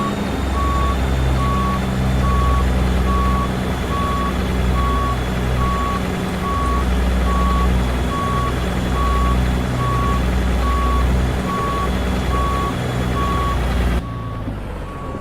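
In Euro Truck Simulator 2, an 18-ton truck hauling a cheese trailer reverses with a loud, regular electronic beeping over a deep rumbling diesel engine, steady for about fourteen seconds before the sound drops off.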